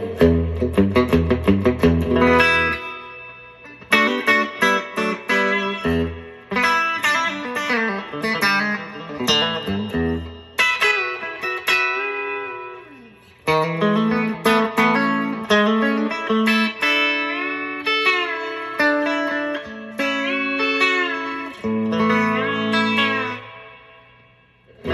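Electric guitar chords and single-note lines played through an Ocean 11 reverb pedal on its spring setting, splashy, with lingering wet tails between phrases; loud and close, no voices.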